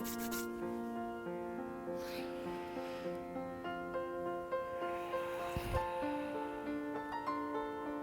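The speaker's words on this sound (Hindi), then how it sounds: "दोनों हाथों को अच्छे से रब करके अपने चेहरे पे और आंखों पे कोमलता से लगाइए।" Both hands are rubbed briskly together, a soft, dry friction sound heard in short passes under steady background music during a yoga session.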